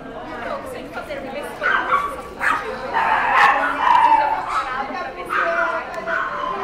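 Dogs on a guided group training walk yip and whimper in short bursts, mixed in with a trainer talking to them and people chatting nearby.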